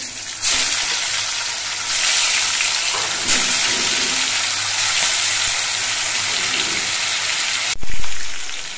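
Fish pieces frying in hot oil make a loud, steady hiss and sizzle that swells in waves, with a sharp burst of crackling near the end as more pieces are added.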